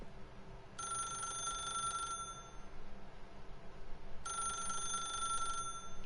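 Telephone ringing in the video game The Stanley Parable, two bursts of steady electronic ringing separated by a pause, over a quiet low hum.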